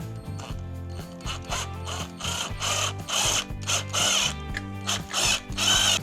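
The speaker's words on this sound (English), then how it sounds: "But I'll get a drill and a tap and we'll try it." A drill runs in short, loud bursts while working on an XS1100 cafe racer motorcycle during a hydraulic clutch fitting, revving and stopping repeatedly, with grinding bit noise close to the mic.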